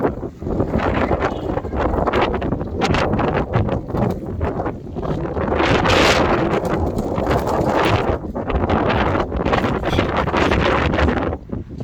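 Steady, loud wind buffeting the microphone, a continuous roaring rush with gusts swelling and fading throughout; no voices.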